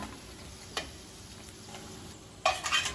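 Onions, five medium ones, fry in oil for mutton biryani, making a low, steady sizzle with a couple of brief utensil clicks and a louder burst of crackling and scraping near the end.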